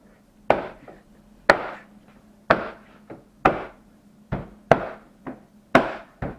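A new parking sensor is tapped into the rear bumper of a BMW E39 M5, giving about nine sharp, hollow knocks at a loose, uneven pace, close by with quiet gaps between them.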